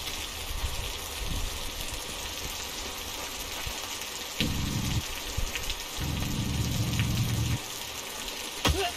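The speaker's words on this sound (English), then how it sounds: "Just a little rain." Steady rain falling outdoors in the space-survival game Osiris: New Dawn, a continuous hiss with faint patters, joined midway by two droning engine-like hums; no talk.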